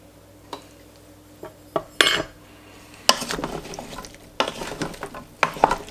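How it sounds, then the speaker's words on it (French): A spoon stirs tomato paste into a stew in a pot, giving scattered scraping clinks and knocks against the pot over a low background hum. The strikes come irregularly, with a busier burst of clatter in the second half. "Je mélange."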